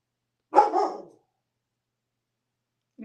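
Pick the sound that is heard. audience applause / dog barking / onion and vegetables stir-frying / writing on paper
dog barking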